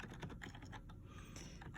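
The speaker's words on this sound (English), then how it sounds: "I'm going to go ahead and type it in" Rapid typing on a computer keyboard while entering an equation into Desmos, a steady run of close, crisp key clicks with no talk.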